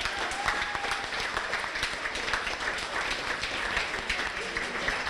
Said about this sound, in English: how about a nice round of applause for Cheryl Wolk and the kitchen staff for the fantastic meal